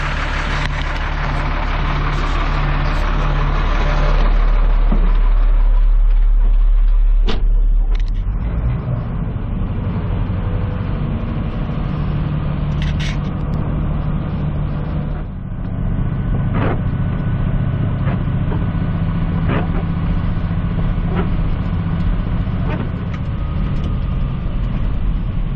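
A truck hauling a 14-yard rental bin drives along, its engine rumbling loud and close with rattling and clunking from the load, the pitch shifting as it slows and picks up speed again.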